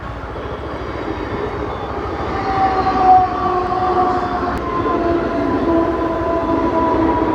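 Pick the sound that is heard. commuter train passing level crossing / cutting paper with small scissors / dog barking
commuter train passing level crossing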